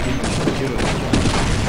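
Rapid bursts of loud video-game gunfire from a superweapon fill the whole moment, dense and close with overlapping booms.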